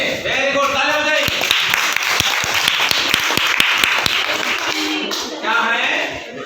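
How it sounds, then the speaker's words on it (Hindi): Classroom applause from schoolchildren after a correct answer, a few seconds of brisk, fairly close clapping, with a teacher talking at the start and again near the end. "वेरी गुड, तालियां बजाइए।"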